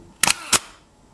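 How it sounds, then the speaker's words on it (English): A Kiev 88 medium format camera fires its shutter up close: two sharp mechanical clacks about a third of a second apart, loud and crisp in a quiet room, with a short fading ring after. "Here's the sound of a Kiev 88."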